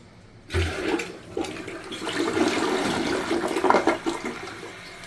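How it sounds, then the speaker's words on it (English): A Toto Drake toilet, newly installed, flushes with a loud rushing surge of water that swells after a brief quiet start and churns steadily to the end, heard alone and close. "Let's flush it. Go ahead and flush it."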